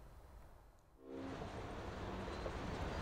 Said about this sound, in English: a newfangled train came rolling down the tracks